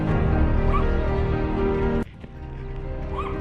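A dog out in an alley gives loud, close barks and whimpering yips in a continuous stretch, then drops off briefly before more whining resumes.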